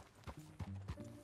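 Hoofbeats of a horse in Red Dead Redemption 2, a quick, fairly quiet run of clip-clop strikes in an uneven galloping rhythm, with faint tonal game sounds underneath and no speech.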